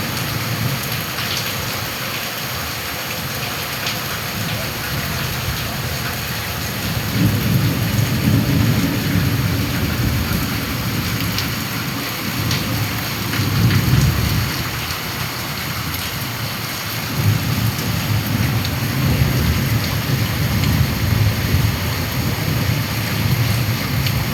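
Heavy rain pours in a continuous roar while deep rolls of thunder swell and fade several times, loud and enveloping throughout.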